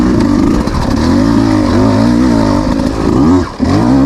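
2026 Beta 200 RR X-Pro two-stroke dirt bike climbing a rocky trail in second gear, engine loud and close with a buzzing, wavering pitch and a brief dip near the end.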